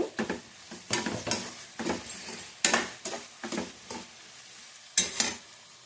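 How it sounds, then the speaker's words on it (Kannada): Tomato going into golden fried onions for akki tari upma, with a utensil stirring through the pan in repeated scraping strokes over a soft sizzle, close and fairly quiet, no talking. "ಗೋಲ್ಡನ್ ಈರುಳ್ಳಿ ಫ್ರೈ ಆಗಿದೆ. ಟೊಮೊಟೊ ಹಾಕ್ಕೊತಾ ಇದ್ದೀನಿ."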